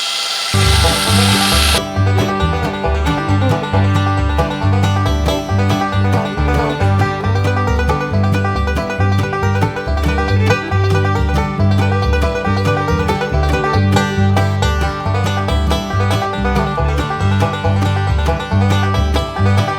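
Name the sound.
power drill drilling wood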